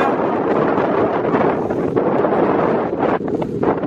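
Loud, steady wind buffets the microphone during a storm chase, a dense close roar that barely eases throughout, with no voices.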